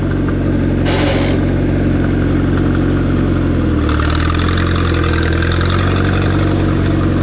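A Minneapolis-Moline 4 Star tractor engine runs steadily in gear, a loud close low rumble that rises in pitch partway through, with no talking.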